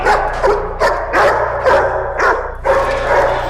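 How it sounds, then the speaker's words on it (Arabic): Dogs bark loudly and repeatedly, close by, in rapid irregular bursts with yips and whimpering between, against a low steady hum in a dramatic film scene. "الكلاب دي بقى لها 3 ايام ما كلتش"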